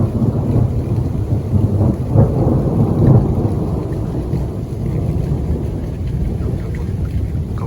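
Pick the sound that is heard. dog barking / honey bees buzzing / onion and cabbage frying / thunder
thunder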